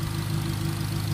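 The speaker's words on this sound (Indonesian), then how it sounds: "Oh mesinnya halus." A 2000 Honda Accord VTiL with manual transmission idles smoothly, a steady low engine hum heard close and alone in a short stretch.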